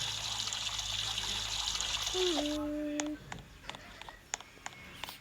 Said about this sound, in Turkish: Şöyle elimi yıkayayım.